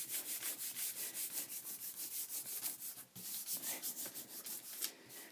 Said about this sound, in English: Really rubbing in those creases there